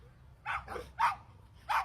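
Three quick barks from a neighbour's fetch-loving dog ring out in under two seconds, each short and moderately faint against a quiet background.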